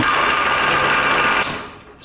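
An all-stainless double-chamber vacuum packing machine runs with a loud, steady mechanical whine and buzz, then cuts off abruptly and fades toward silence, ending with a faint short electronic beep.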